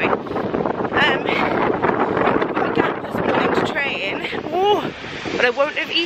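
Wind buffets the microphone outdoors with constant gusty rumble and roar while a person talks over it.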